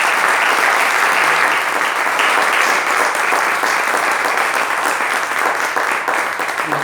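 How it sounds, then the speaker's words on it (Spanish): A church congregation applauding, a dense and loud sustained clapping from many hands that holds steady throughout without any voices standing out. "le pido un fuerte aplauso al Señor"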